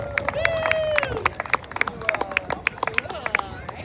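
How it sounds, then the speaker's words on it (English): An audience claps after a trombone solo at a U.S. Navy Brass Band live Fleet Week performance, with sharp scattered claps under a tonal voice and crowd murmur. "another big round of applause for Nathaniel Cooper on the trombone solo"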